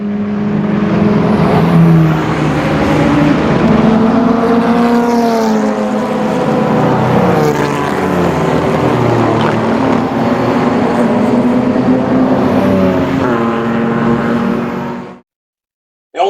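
A race car drives on the Collingrove track, its engine loud and close with a steady, rising and falling drone, rev changes throughout and no voices, until the sound cuts off abruptly near the end.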